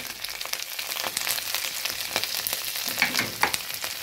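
Ginger and garlic sizzle in a pan as cumin and coriander powder go in, a soft steady frying hiss with occasional stirring scrapes.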